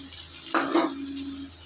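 Fried fish heads drop into a hot pan, bursting into a brief sharp sizzle that settles into a quieter hiss, close and short.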